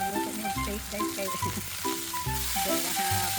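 Steak cooking in a pan at a home birthday celebration, a continuous sizzle and crackle of frying close by, while music plays in the background.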